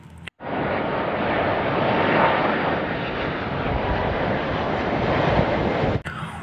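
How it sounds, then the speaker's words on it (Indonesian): A fixed-wing airplane gives off a steady, loud broadband engine roar that holds for about six seconds, with a brief cut near the start and an abrupt drop at the end. "Di sini ada pesawat terbang."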